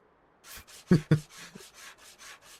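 Car being sanded in Car Dealer Simulator: a soft, regular rubbing stroke repeats about ten times, with two sharper thuds near the start, quiet and close.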